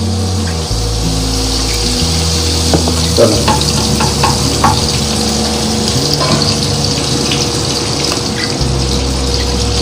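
Butter and oil heating in a pan before marinated chicken goes in, a loud continuous hiss and crackle close to the mic, with a low steady hum underneath and a few clinks.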